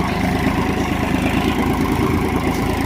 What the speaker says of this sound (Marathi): पण आवाज तुम्ही ऐकू शकता. एकदम लोड फ्री ट्रॅक्टर आहे.